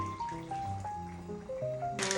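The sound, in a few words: water poured from a can into a pot of meat sauce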